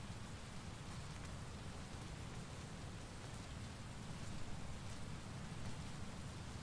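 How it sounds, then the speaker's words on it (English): Steady, dense rain falls in the video game Teardown, a continuous broadband hiss with a heavy low patter, loud and even throughout with no voices. "I like games that have good rain in them."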